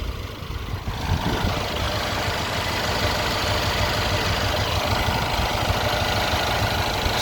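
2014 Mercedes E63 4matic idling with its cooling fan spinning, a steady close engine rumble under a broad whooshing fan roar, continuous and unchanging.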